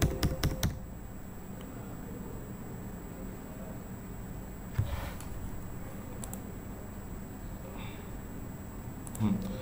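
Keystrokes on a computer keyboard as a show cdp command is entered on a Cisco router, a few quick clicks at the start and isolated taps later, soft and close under a steady background hum.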